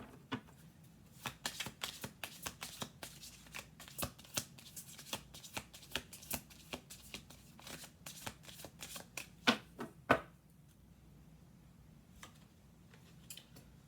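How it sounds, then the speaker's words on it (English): Tarot cards being shuffled by hand during a reading, a long run of quick crisp riffling snaps and slaps at close range, mostly even in rhythm with a few louder flicks near the end and no talking. "Let's do one more shuffle."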